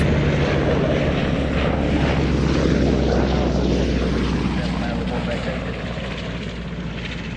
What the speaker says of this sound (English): Merlin helicopter from the Royal Navy.